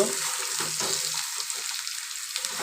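Potatoes frying in a pan for a Bengali aloor dum give a steady, dense hiss that holds even and loud close by, with no one talking.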